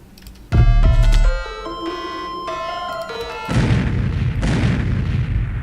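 A synthesized riser effect built in FL Studio opens with a heavy hit and layered sustained synth tones, then shifts into a loud, dense, washing noise swell that holds to the end.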